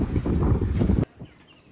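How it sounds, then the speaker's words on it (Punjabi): Strong wind buffets the microphone in a loud roaring rush for about a second, then drops away to a quiet, faint breeze. "ਹਵਾ ਚੱਲ ਪਈ ਆ"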